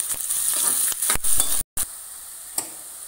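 Green chillies and onion masala frying in a pan for a potato and green beans sabzi, giving a steady close hiss of sizzling oil broken by a few sharp clinks of a spoon stirring against the pan.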